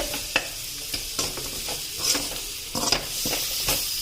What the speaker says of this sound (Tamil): இதை லைட்டா வதக்கி விட்டுருவோம் இந்த மசாலாவோட.